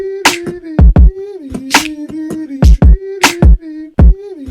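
A beatbox loop with drums layered on top, looping punchy kicks and snappy hits in a repeating rhythm over a sustained hummed tone, loud and close.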